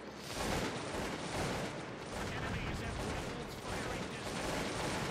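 Massed musket fire from troops in the strategy game Cossacks 2, a continuous crackling roar of overlapping shots and battle noise that stays loud and dense throughout.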